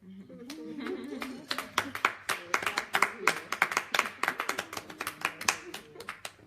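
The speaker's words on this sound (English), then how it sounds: "So that's a good place to clap." Audience clapping at a birthday celebration for Mayowa Olaiya, starting over a brief murmur and building into a few seconds of brisk, fairly sparse hand claps with distinct individual strikes, moderately close.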